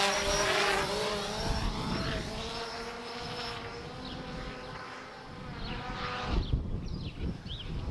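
A DJI Phantom 4 drone lifts off with a loud, close, high-pitched buzzing whine from its propellers, rising and shifting in pitch as it climbs, with no talking.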